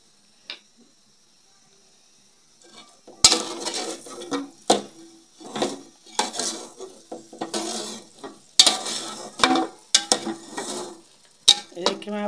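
Desi ghee residue is stirred and roasted in a pan, with irregular bursts of spoon scraping and clanking against the metal over a soft sizzle after a quiet opening.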